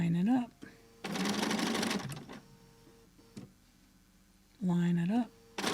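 Sewing machine stitching freeform curved quilt pieces, running in two loud bursts of rapid mechanical whirring with quieter pauses between, while someone talks during the gaps.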